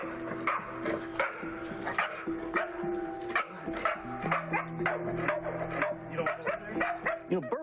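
A dog barks repeatedly inside a house reported to be haunted, loud close yips and barks in quick irregular bursts with some whimpering between them.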